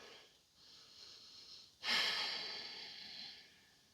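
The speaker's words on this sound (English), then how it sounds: "Take a few breaths." Deep breaths taken during a full-body yoga flow: a soft, airy inhale in the first seconds, then a louder, fuller exhale that swells suddenly and slowly fades out, close and with no talking.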